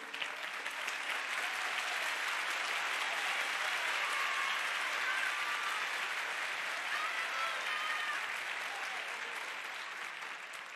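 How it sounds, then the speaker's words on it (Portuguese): Audience applause at a church Bible talk, a steady, dense clapping from a large crowd that holds evenly for about ten seconds and fades slightly at the end, heard from a distance. "o aplauso tá bom"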